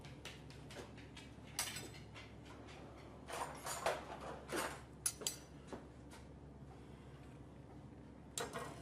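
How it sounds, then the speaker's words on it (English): A spoon scooping avocado flesh out and into a bowl for a paleo avocado and lime dip, giving soft scraping strokes and a few light clinks against the bowl, close and fairly quiet. "we're going to go ahead and get the meat out of the avocado and place it in the bowl"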